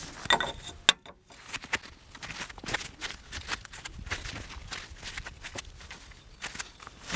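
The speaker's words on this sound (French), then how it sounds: "Là, on dévisse." Wrench loosening a Renault suspension ball joint nut, with scattered close metallic clicks and scraping taps in an irregular rhythm, fairly quiet and with no talking.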